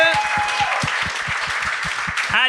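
Dense audience applause at a Quebec comedy show fills the stretch, a steady wash of many hands, with a few voices cheering and a bright whistle-like tone near the start.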